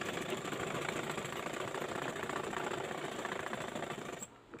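A sewing machine runs steadily while stitching a bobbin bag, a fast continuous whirring clatter at moderate level that stops abruptly near the end.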